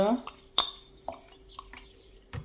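Egg yolks being whisked into milk in a bowl for a coconut cake, heard as a few sharp clinks and taps of utensil against the bowl with quiet scraping between, close by.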